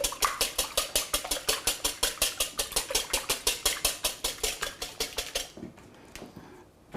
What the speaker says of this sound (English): first I've got 2 eggs that I'm going to whisk up here